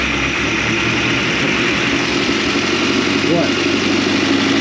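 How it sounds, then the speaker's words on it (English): An Austin 7 car engine, freshly rebuilt, runs at a steady, fairly quiet idle throughout, a continuous low mechanical hum close by, with a brief spoken word near the start. "it sounds quite quiet."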